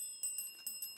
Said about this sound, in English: That's the final bell, the end of the final challenge, the end of the match.